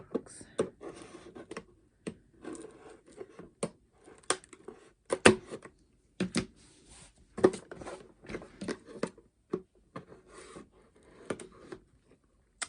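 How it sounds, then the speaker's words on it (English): Scattered sharp clicks, scrapes and snips of scissors working through cardboard, irregular and close, with pauses between bursts. "get my scissors here. Just open the box."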